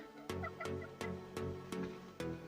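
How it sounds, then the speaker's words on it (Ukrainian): Several sharp clucks and short calls from bantam chickens repeat at roughly regular intervals, close by, with a few higher chirps mixed in. "Бо мої курі, тут бентамки"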